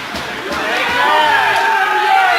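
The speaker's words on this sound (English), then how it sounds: "The crowd is trying to help the ref here." A crowd at a youth U13 ice rink hockey game rises into loud, echoing calls and shouts with rink reverberation, while a commentator talks over it.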